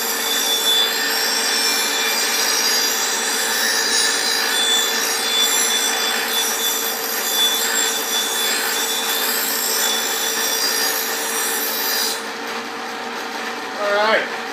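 A lawn mower blade is ground to sharpen its edge, making a steady, loud, close rasping whine that runs unbroken for about twelve seconds before cutting off.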